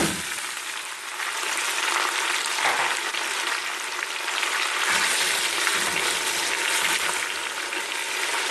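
Beef pieces hitting garlic and ginger frying in a pot for nihari, a loud continuous close sizzle with stirring noise running throughout, no talking.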